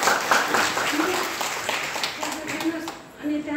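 A crowd claps together for an honoured guest at a DXN gathering, a steady dense patter of hands that swells and dips over a few seconds, with faint voices mixed beneath it.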